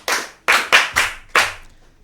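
Five sharp, separate claps ring out close and crisp in an uneven rhythm, as children clap for a storyteller on a Yoruba-language radio children's programme. No voices are heard.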